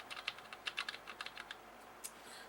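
Quick, light clicks come from typing on a slimline mechanical laptop-style keyboard whose switches resemble Cherry Reds. The keystrokes are close and irregular, about a dozen soft taps in short bursts with no talking.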